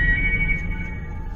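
A phone rings with a short electronic tone, held steadily over a low background hum, alone without speech.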